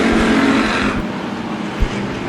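Dirt track race cars roar past at Bakersfield Speedway, engines loud and droning for the whole stretch, heard from close by with a brief pop near the end.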